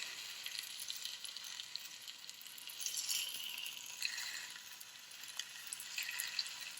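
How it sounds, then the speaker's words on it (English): Thick-cut pork chops sear in a hot pan, a steady close sizzle and crackle holding throughout with slight swells in intensity and no talk. "So right now we have the one side of our pork chops getting seared on one of the two sides."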